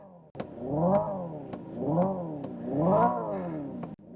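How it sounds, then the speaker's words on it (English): Synthetic engine sound from a Hyundai IONIQ 5 N electric car, revving up and falling back three times in rising and falling harmonic sweeps, loud and close, with sharp clicks between the revs and no talk. "I can rev the engine."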